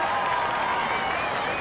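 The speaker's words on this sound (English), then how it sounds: "A few hand claps and cheers there" Scattered hand claps and cheers from a small group of Fremantle supporters at a 1995 Australian football match against Footscray, a continuous distant crowd wash with a commentator's voice over it.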